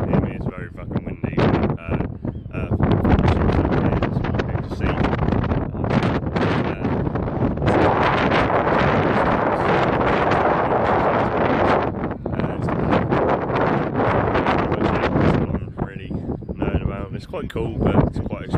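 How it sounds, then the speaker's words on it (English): Heavy wind buffets the microphone in loud, gusty roaring bursts. Stretches of it are continuous and the rest come in choppy gusts, with a voice partly buried underneath. "I don't know if you can hear me. It's very fucking windy."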